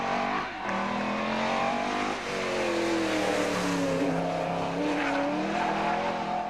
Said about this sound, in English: That thing there, that Mustang, is basically a V8 supercar.